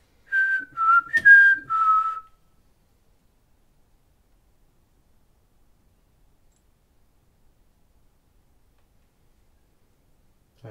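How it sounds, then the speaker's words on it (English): A person whistles a brief run of four or five quick notes at a museum, then near silence for the remaining several seconds. "It did sound like a whistle"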